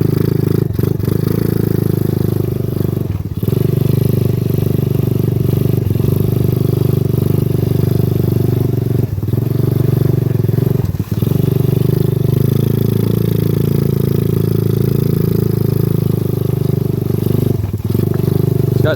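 A 125cc ATV fitted with a swapped Typhoon engine, riding with a steady loud mid-pitched engine drone and occasional clatter and bumps from rough yard ground, no talk.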